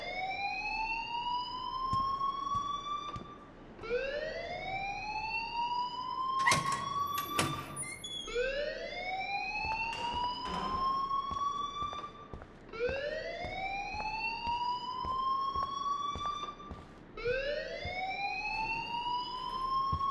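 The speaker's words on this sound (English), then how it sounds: "please turn off that alarm since that's your job." Fire alarm sounding in the video game Life is Strange, a loud rising electronic whoop repeating about every two and a half seconds, with a brief clatter partway through.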